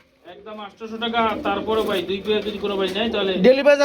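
A pair of pigeons coo in low, throaty, repeated phrases close by, mixed with a person talking over them.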